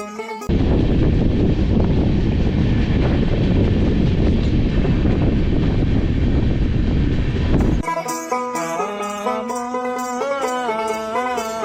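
A passenger train between Howrah and Bolpur runs fast at 100 to 120 km/h, its loud steady rumble and rattle of wheels on the rails filling most of the stretch. Then it cuts off abruptly, giving way to music.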